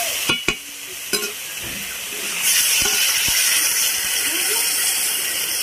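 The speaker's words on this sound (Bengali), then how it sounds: "এবার জল দিয়ে দেবো।" Water poured into a curry cooking in a pan, a few utensil knocks followed by a loud, broad hissing sizzle of steam that rises and holds steady close by.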